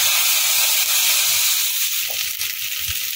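Ground spice paste hitting hot oil with spluttering mustard seeds, a bright continuous hiss and sizzle, close and loud, with small pops toward the end.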